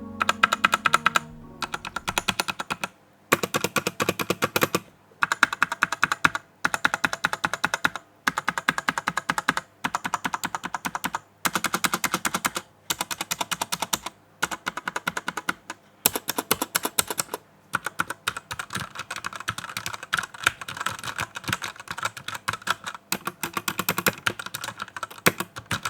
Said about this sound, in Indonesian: suara yang dihasilkan dari keyboard red switch ini ketika digunakan untuk mengetik